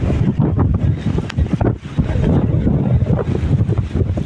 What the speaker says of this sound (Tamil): அலையின் சீற்றத்தை பாருங்கள், ஒவ்வொரு அலையும் எப்படி இருக்குன்றதையும் பாருங்கள்.